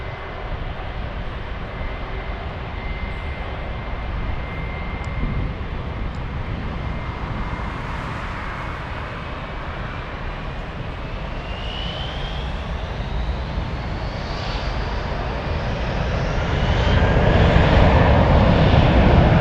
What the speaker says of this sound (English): these are the last takeoffs